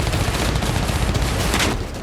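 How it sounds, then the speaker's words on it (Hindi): Rapid, dense gunfire roars continuously and loudly in Bakhmut as Ukrainian troops attack a Russian position, the shots blurring into one unbroken barrage. "ताबड़तोड़ गोलियां चल रही हैं।"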